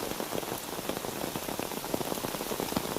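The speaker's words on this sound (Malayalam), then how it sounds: "ഭയങ്കര മഴ" Heavy rain drums steadily on surfaces at a campsite, a dense patter of countless drops, close and constant with no talking.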